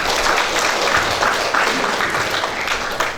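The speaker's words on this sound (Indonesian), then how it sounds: "Tepuk tangan dulu buat PKK." A crowd at a university graduation ceremony applauds for the PKK: a loud, thick wash of many hands clapping at once, continuous and even from start to finish.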